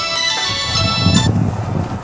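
A mobile phone ringtone chimes loudly and close for about a second in Debaltseve, then cuts off, leaving a low rumbling background.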